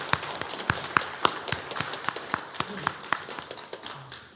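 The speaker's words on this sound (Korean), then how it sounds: "우리 하나님께 영광의 박수 올려드리겠습니다." A church congregation claps after a prayer, quick sharp hand claps in a loose rhythmic pattern, moderately near and fairly quiet, with no voices over them.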